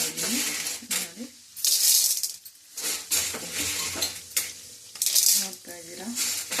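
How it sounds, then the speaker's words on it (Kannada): Half a cup of corn kernels is poured into heated oil for popcorn, making bursts of rattling patter and sizzle that come and go, with someone talking in between. "ಇವಾಗ ಎಣ್ಣೆ ಬಿಸಿ ಆಗಿದೆ. ನಾನು ಅರ್ಧ ಕಪ್ನ ಜೋಳನ ಹಾಕ್ತಾ ಇದ್ದೀನಿ."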